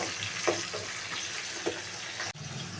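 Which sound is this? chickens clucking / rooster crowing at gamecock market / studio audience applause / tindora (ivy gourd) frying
tindora (ivy gourd) frying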